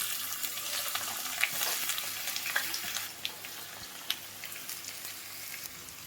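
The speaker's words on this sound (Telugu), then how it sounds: "ఆయిల్ బాగా వేడైన తర్వాత ఈ ఉల్లిగడ్డలు ఇంట్లోకి వేసుకోండి." Onions dropped into hot oil in a pan, a continuous soft crackling sizzle with scattered small pops and spits throughout, fairly quiet and close.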